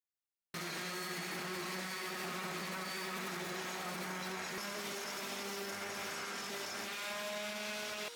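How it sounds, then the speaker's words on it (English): Vacuum cleaner sucking up wood dust from a workbench and cut wood, a steady close motor drone starting abruptly and running continuously without speech. "To prep for staining, I made sure to vacuum up all the dust on this wood and on my workbench."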